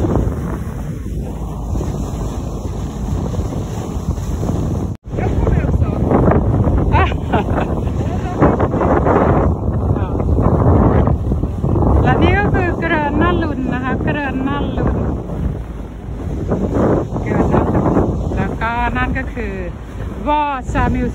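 Boat ride on the water in Stockholm, with steady wind rumble buffeting the microphone over engine and water noise throughout, broken by a brief dropout and joined by faint voices in the background.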